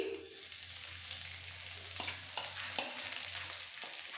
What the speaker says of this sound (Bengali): তেল ভালোভাবে গরম হয়ে গেছে এবার সবার প্রথমে দিয়ে দেবো দেড় চামচ রসুন কুচি